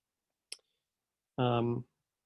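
A single crisp computer mouse click selecting an item in a drop-down box, short and isolated in near silence, followed a moment later by a brief vocal sound.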